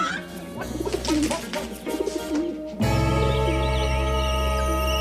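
Pigeons coo steadily in several overlapping soft calls over a constant low hum, with a brief pause before the hum gets louder.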